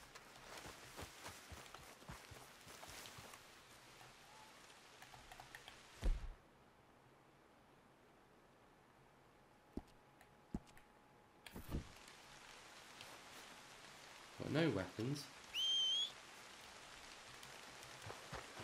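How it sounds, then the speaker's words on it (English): Rain falls in the game Red Dead Redemption 2, a soft, steady hiss of drops with occasional footsteps and clicks, broken by a short quiet gap, while someone briefly speaks. "And it's raining."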